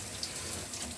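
Tap water running into a sink during a beard wash with liquid black soap, a steady close hiss and splash with faint gurgling, brief and fairly quiet.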